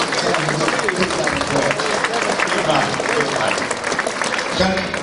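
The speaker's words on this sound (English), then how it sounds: "Let's give him a round of applause" An audience at an evening event with boxer Sugar Ray Leonard in Gateshead breaks into steady applause, loud and continuous, with voices and cheering mixed through the clapping.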